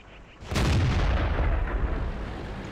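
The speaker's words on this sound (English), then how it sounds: "Took a speculative shot there." A tank's main cannon fires in World of Tanks, a single loud booming shot with a sharp onset that rolls into a long rumbling tail, heard alone.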